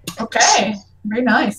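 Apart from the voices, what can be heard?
a person sneezing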